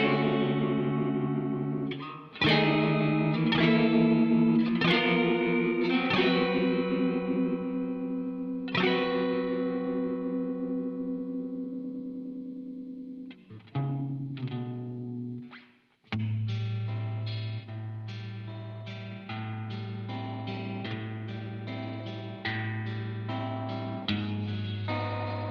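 Electric guitar runs through a Wampler Terraform modulation pedal, with strummed chords and picked notes that swirl and warble as rate and depth shift, ringing out with reverb-like tails and a brief drop near the middle, with no voices.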